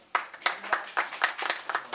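Audience at a comedy show clapping in a slow, uneven rhythm, distinct hand claps spaced roughly a quarter second apart, fairly close and moderately loud.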